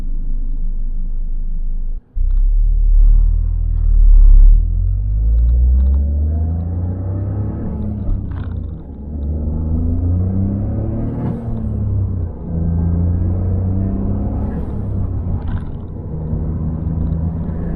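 A Toyota GR Corolla drives in eco mode, its engine and road noise forming a steady low rumble from inside the cabin, with gentle rises and dips in engine pitch throughout.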